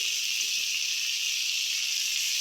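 Chopped dill leaves frying in a pan give a steady, even hiss that runs throughout without a break, close and moderate in level, with no voices.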